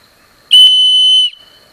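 One loud, sharp blast from a survival whistle, a piercing steady tone lasting under a second, standing alone against near silence.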